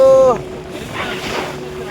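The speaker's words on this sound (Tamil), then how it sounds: "கடல் அலைகள் சூப்பராக இருக்கு" Sea waves slap and rush beneath a boat moving over swells in the Maldives, with wind buffeting the microphone; a brief voice-like tone opens the clip before the washing surf noise.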